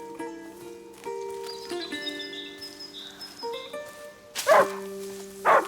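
A dog in the video game A Plague Tale: Innocence gives a couple of short, loud barks near the end, over a sustained musical drone with no speech.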